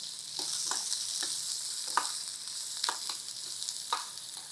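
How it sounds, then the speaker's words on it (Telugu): Sliced onion fries in oil for a stuffed brinjal masala curry, giving a soft, steady sizzle with scattered sharp spatula taps as it is stirred, quiet and close with no voices. "మరి కాస్త ఉల్లిపాయ కూడా వేసుకోవచ్చు."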